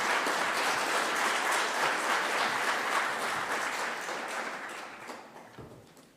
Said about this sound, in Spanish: Les pido que los recibamos con un aplauso.